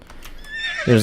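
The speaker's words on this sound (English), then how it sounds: "There appears to be a horse." A horse in a video game neighs, giving a short bright whinny at the end of a brief moment that opens with quieter game sounds and faint rhythmic tapping.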